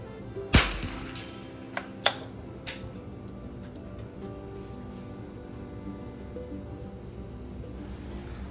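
Gunshots at a silhouette shooting match outdoors, one sharp loud report followed by a few fainter cracks spaced about half a second apart, then quiet background.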